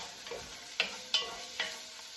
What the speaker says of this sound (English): Just get a wooden spoon. Just keep this stirring.